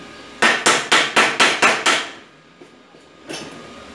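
Seven sharp, evenly spaced hammer blows strike the wooden slats of a sliding gate, close and loud, followed by a pause, a couple of faint taps and one more knock.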